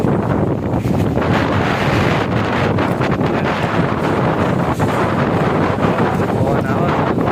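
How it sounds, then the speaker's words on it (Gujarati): Strong wind buffets the microphone outdoors in Gujarat during a severe windstorm with no rain, a loud, continuous roaring rush that persists across the whole stretch with no speech. "પવન જબરજસ્ત આવે"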